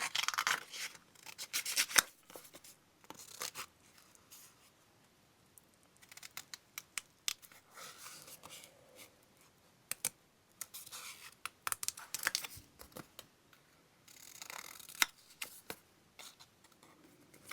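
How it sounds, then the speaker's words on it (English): Scissors snip and rustle through vintage paper as a piece is fussy cut for a junk journal collage, close and soft, with many short irregular cuts and paper handling spread over the stretch, no talk. "So I could actually fussy cut that."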